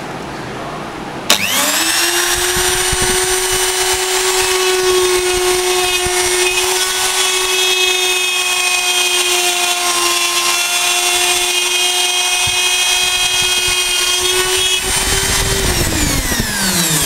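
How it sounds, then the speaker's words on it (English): A portable bevel drainage slot machine cuts a slot in a uPVC window profile, starting abruptly into a loud, steady high-pitched whine that holds for about thirteen seconds before winding down. "For that we require the bevel drainage slot machine."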